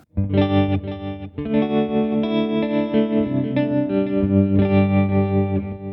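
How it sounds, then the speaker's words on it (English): Sustained electric guitar chords with a pulsing tremolo effect from a Fractal AM4 processor, loud and close, played alone with a brief pause near the start. "I'm going to go with a modulation. So let's go with tremolo."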